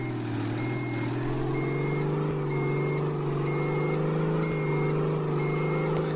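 Reversing beeps from a Volvo VM 270 truck in World Truck Driving Simulator, a steady series of evenly spaced electronic tones about once a second over a loud, constant diesel engine drone.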